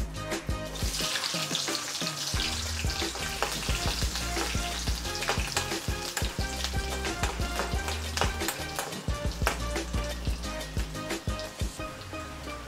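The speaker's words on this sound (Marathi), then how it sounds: "लसूण टाकू" Garlic frying in hot oil in a kadhai over crackled cumin seeds, cooked for methi bhaji. A continuous, busy sizzle with crisp spattering pops, close and fairly soft.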